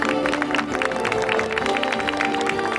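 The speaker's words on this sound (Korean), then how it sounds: "큰 박수 부탁드립니다." An audience at a charity campaign launch ceremony claps steadily, a dense scatter of hand claps from a sizeable indoor crowd, moderately loud and continuous with faint voices beneath.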